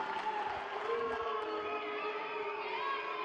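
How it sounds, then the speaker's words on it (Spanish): An arena crowd at a women's boxing bout in Cuernavaca cheers and applauds after the fight between Finita García and Marilyn Vadillo, a sustained wash of cheering and clapping with a ringing tonal sound running through it, moderately loud and continuous. "fuerte aplauso para la Finita García y Marilyn Vadillo por este gran combate desde Cuernavaca"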